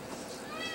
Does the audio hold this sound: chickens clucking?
no